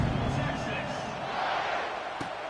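A large stadium crowd roars steadily in a College Football 26 video game, a loud, dense wash of cheering and noise with no break throughout.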